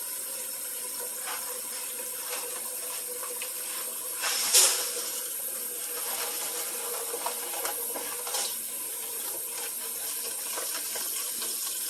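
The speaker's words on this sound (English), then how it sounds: "I'm going to fill the stock pot up to about here with cold water" Cold water filling a stock pot from a tap, a steady close hiss of running water with a brief louder splash partway through, no voices.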